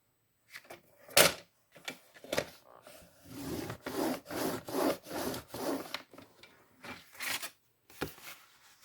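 Paper being folded and creased by hand for a diamond-shaped pop-up card, with crisp crinkles, a sharp snap and a run of rhythmic rubbing strokes close up, with no talking.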